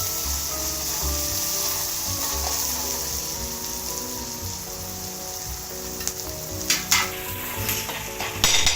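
Thecha, a crushed chilli paste, fries in a pan with a steady close sizzle, and spatula scrapes and clinks against the pan grow louder toward the end.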